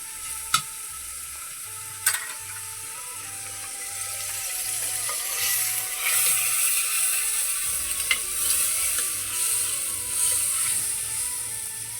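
Spices for urad dal frying in a pan, a steady close sizzle with sharp clicks of a utensil, faint background hum and no talking.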